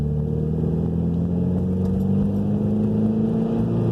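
Turbocharged Mitsubishi Evo X engine pulling under load, a steady close drone with a rising whine as the turbo spools, heard from inside the car without voices; no distinct blow-off release stands out.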